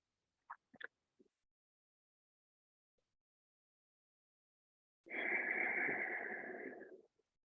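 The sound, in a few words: ujjayi (victorious) yoga breathing through a constricted throat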